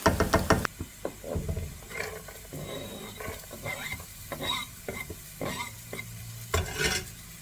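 Onion and carrot sizzle in a frying pan while a utensil stirs them, with repeated scraping knocks against the pan over a steady hiss, close and fairly loud.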